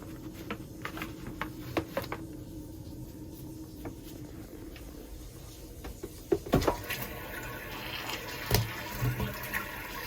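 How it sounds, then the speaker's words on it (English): An RV's black tank flush runs with steady rushing, splashing water, scattered sharp clanks and knocks over the continuous flow, heard up close at night in the underbay. "I do have the black tank flush going"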